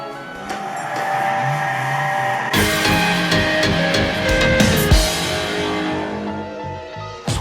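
A car in Gran Turismo 6 on PS3, driven with a G27 wheel for grip driving, gives a sustained engine tone that jumps louder and rougher midway, with shifting pitch and a few sharp transients.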